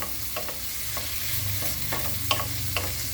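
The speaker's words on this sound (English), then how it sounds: "I'm gonna add my blended pepper, onion, garlic, and ginger, and I'm gonna just let it cook" Blended pepper, onion, garlic and ginger cooking with sausage in a pot give a steady low sizzle, with a few soft scrapes and taps as the mixture is stirred, no voices.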